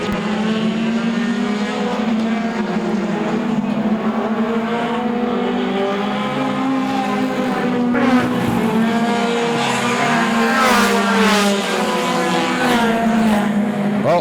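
Modified race cars circle an oval track, engine roar loud and unbroken for the whole stretch with rising and falling pitch as cars pass close by, no voices over it.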